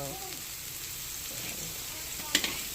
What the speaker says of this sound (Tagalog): Lagay natin ang bawang.